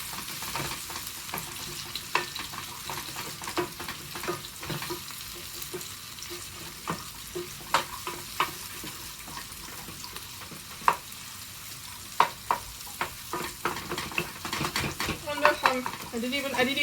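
Onions sizzle in a pan close by while a utensil scrapes and clinks against it in frequent irregular strokes, building to a busier stir near the end, with no talking.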